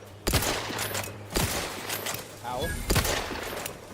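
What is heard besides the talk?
gunfire in The Outer Worlds 2 video game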